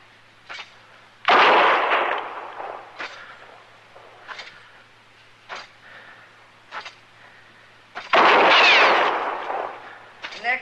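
A gunshot in an old-time radio Gunsmoke western drama: two loud, sharp blasts several seconds apart, separated by quieter dialogue from actors speaking between them.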